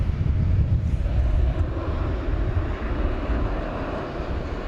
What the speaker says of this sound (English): this is an Airbus A350-1000, was diverted here earlier today on a flight from London. So now it is about to complete that mission.